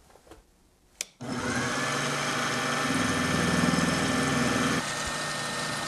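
A milling machine spins an end mill while making a first folding knife, starting with a click and then a steady loud whirring drone that runs for several seconds before dropping to a lower hum.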